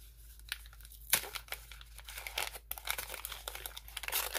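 Brown kraft paper packing crinkles and rustles as a Christmas gift box is unpacked, quiet, close, irregular scrunching with a few sharper crackles and soft tearing.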